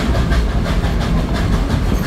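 Dollywood's Engine 70, a steam locomotive retired from the White Pass and Yukon Railroad, pulls a train ride with steady clickety-clack of wheels on rail and a constant loud rumble, heard close and alone.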